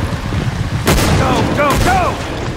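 Rifle shots in the hunting video game Cabela's Dangerous Hunts 2013, a loud broadband blast followed by a second report against game ambience, with bird-like chirps and animal calls in between.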